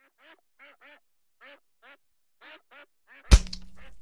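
Ducks quack in a series of short nasal calls, scattered and fairly faint, followed by a sudden loud thud near the end.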